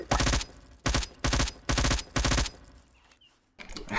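Rapid bursts of gunfire in a Roblox Blacklands game, with four loud, closely spaced volleys followed by a short quieter tail and one more burst at the end.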